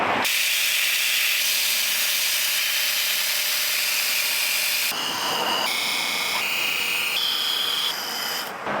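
A chisel held against a powered sharpener gives a steady, close grinding rasp, then shifts at about five seconds into shorter, changing grinding passes with bright high-pitched scraping, no talk throughout.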